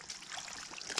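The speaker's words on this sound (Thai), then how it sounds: "บวกนี่น้ำไหล" Water trickles steadily into a fish pond, a faint, continuous splashing dribble with no talk over it.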